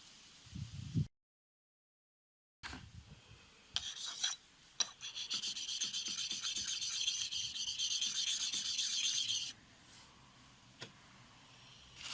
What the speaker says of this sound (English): Good thing about these blades, they're double-sided, so sharpen them both and then you get double the use.